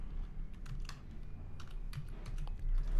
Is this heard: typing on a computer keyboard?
yes